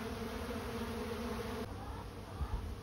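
Honey bees swarm around the entrance of a hive during a fall varroa mite treatment, making a steady, dense buzz close by that holds at an even level throughout.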